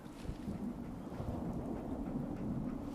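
Steady rain falls with a low rumbling thunder bed in a Fallout video game, a continuous wash of noise at moderate level with no voices.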